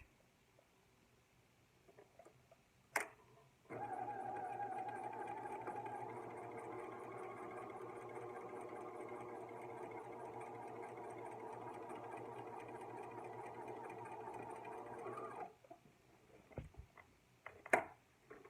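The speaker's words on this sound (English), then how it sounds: "And then I am going to sew from one end to the other and back stitch." A sewing machine runs steadily for about twelve seconds, stitching a seam from end to end with a backstitch. The motor hum is close and continuous, with a click just before it starts and soft handling clicks after it stops.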